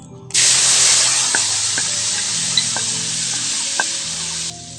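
Onion garlic paste dropped into jute leaves frying in ghee, setting off a sudden loud hiss and sizzle that holds for about four seconds with faint stirring clicks, then cuts off, no talk.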